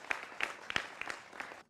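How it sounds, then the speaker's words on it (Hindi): Sparse, faint applause in a Hindi television debate studio: a handful of distinct claps spread unevenly over under two seconds before cutting off. "जोरदार तालियों के साथ अभिनंदन करिए"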